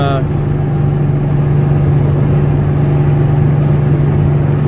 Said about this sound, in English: I don't know how much you can actually hear me over the road and the exhaust